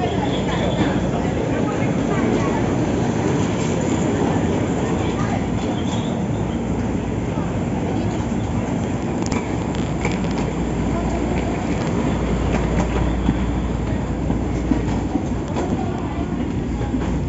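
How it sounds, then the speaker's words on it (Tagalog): Inside a moving train heading to Taipei Main Station, a constant low rumble and rail noise fill the carriage, with faint voices in the background. "nandito na kami sa loob ng train"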